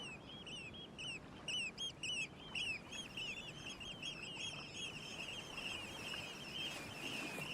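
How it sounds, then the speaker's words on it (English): A large flock of oystercatchers calls continuously on the Dee Estuary near Hilbre Island at high tide in winter, shrill piping notes overlapping in a busy chorus over a soft background rumble, somewhat distant. "oystercatchers gather in their thousands to feed on the replenished supplies of crustaceans and invertebrates"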